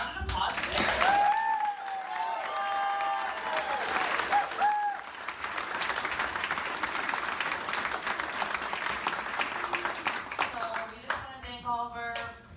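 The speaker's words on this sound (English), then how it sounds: "Can we give a round of applause to Sarah?" Wedding guests break into a round of applause at a reception, sustained clapping from a crowd that fills the room, with voices and cheering mixed in and speech returning near the end.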